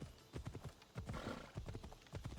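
Horse hooves clip-clopping in a steady galloping rhythm while riding through open country in Assassin's Creed Odyssey, close and fairly loud, with a brief whinny-like tone midway and no talk.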